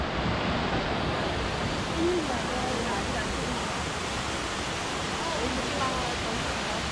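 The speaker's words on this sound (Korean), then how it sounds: "너무 근사한 폭포." Steady broadband roar of a large waterfall, constant and close, filling the whole stretch without pause.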